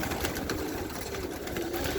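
Young racing pigeons coo in a loft, soft repeated throaty calls over a steady low background hum, with no one talking.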